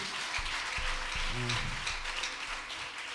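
Broad, continuous clapping from a crowd at a worship gathering, a dense wash of applause with a brief voice rising briefly in the middle.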